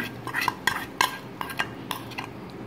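A spoon scraping and clinking against a pan while chicken jhingada is mixed, a series of sharp metallic taps and stirring scrapes in uneven rhythm, close and clear with no talk.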